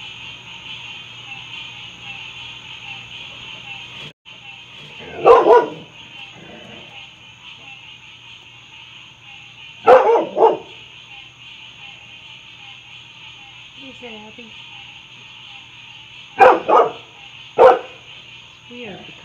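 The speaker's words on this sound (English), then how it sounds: "She's barking, but her tail's wagging." A dog in a backyard barks in short bursts of two or three barks separated by pauses of several seconds, fairly close over a steady background hum, with a person briefly speaking between barks.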